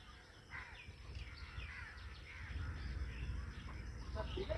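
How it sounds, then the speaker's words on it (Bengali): Several crows caw repeatedly at a distance at an outdoor picnic spot near Kolkata, over a low, steady background rumble, with scattered smaller bird chirps mixed in. "এখানে পাখির প্রচুর কোলাহল শুনতে পাবে।"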